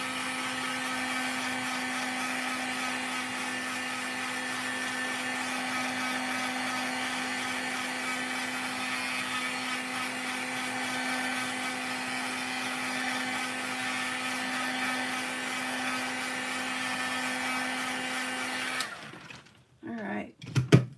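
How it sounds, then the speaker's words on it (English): A heat gun blows continuously while drying a handmade stamped card, a steady, fairly quiet whirring hum with a constant tone that stops abruptly near the end, followed by a few faint clicks. "I'm just gonna zap it quickly with my heat gun."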